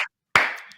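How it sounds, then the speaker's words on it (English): Hands clap sharply during a casual interview, with one crisp clap near the start and a louder, close clap that rings briefly before fading, with no talking. "Pardon me while I stand up and applaud."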